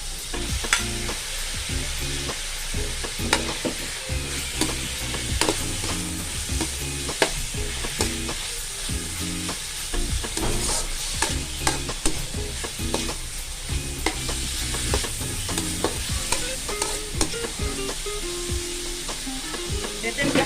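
Ground pork frying in a pan for a squid dish, a loud steady sizzle broken by frequent clattering stirs and scrapes of the spatula throughout.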